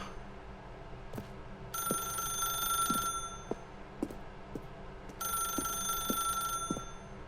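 Telephone bell in the video game The Stanley Parable rings in two long bursts separated by a pause, loud and close over a soft ambient background hum with faint ticking.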